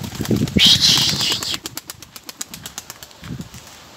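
Pigeons burst into flight from a coop, a loud flurry of flapping wings close by that thins into a run of separate wingbeats fading as the birds move away.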